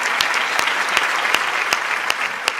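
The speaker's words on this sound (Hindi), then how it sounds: "और ताली अभी भी कमजोर है आपकी।" Audience at a Hindi comic poetry gathering (kavi sammelan) claps steadily for nearly three seconds, a dense, even patter with a few sharper claps standing out and no talking over it.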